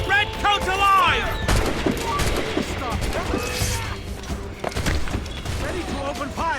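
Rapid volley of musket and cannon fire crackles and booms in the Assassin's Creed Rogue video game, dense overlapping shots continuing throughout with shouted voices and battle noise mixed in.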